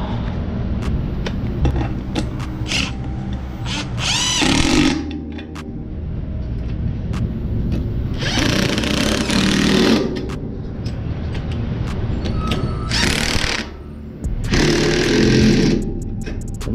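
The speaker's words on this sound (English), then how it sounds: "using my DeWalt impact drill" Bursts of a DeWalt impact driver with a half-inch socket adapter whirring and hammering on trailer mudflap bolts, three or four long runs separated by brief pauses, loud and close with no speech.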